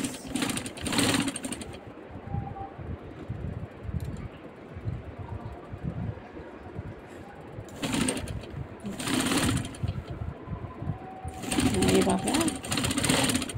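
Sewing machine stitching the sleeve of a kameez, a steady low mechanical whir that runs nearly throughout, with louder bursts where a voice talks over it.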